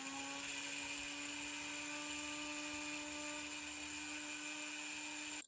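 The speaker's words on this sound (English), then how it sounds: "I am pre-polishing the earring." A rotary tool pre-polishes a gold domed earring, giving a steady high-pitched whine with sharp tonal lines that holds unbroken for about five seconds and cuts off abruptly at the end, close and alone.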